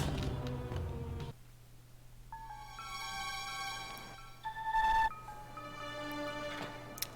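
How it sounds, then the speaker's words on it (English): Notebook notification chime in an emulated Shenmue 2 Dreamcast beta: bright, ringing tones sound twice over a quiet low hum, the second burst louder, with the tones slightly off. "That notebook, like, notification is quite... The sound's a little off, probably because it's, emulated"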